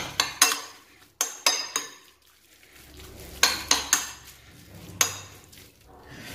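A metal spoon stirs and clinks against a bowl while mixing oil with ras el hanout for a crustless chicken and cheese quiche. Sharp, close taps come in quick bunches separated by quiet gaps, with no talking.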